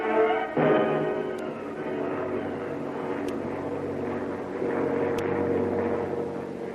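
A giant airliner engine drones in a steady, sustained roar with a low hum as a radio drama sound effect, slightly swelling and fading, with no voice over it.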